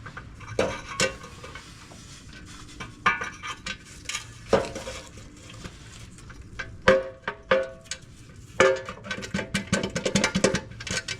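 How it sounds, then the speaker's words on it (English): A metal transmission pan on a Jeep Cherokee XJ is worked up into place underneath, giving scattered close metallic clanks, taps and scrapes in irregular bursts with no talking. "So now we'll just kind of get our pan worked up into place here."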